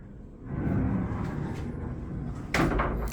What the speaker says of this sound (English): nice barn door.